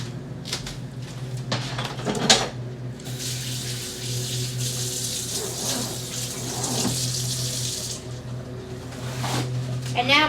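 A sink tap runs steadily while a spoon and dishes are washed up in a home kitchen after peeling hard-boiled eggs, with a constant mid-level water rush and a few light clinks.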